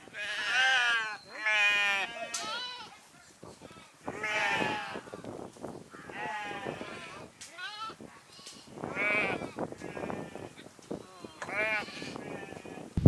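Goats herded under scorching sun by shepherds in Palakkad bleat repeatedly, several loud, wavering calls coming in quick succession and overlapping at close range.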